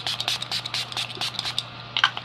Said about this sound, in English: I'm going to go ahead and use this Catrice Cosmetics Prime and Fine Multi-Setting Spray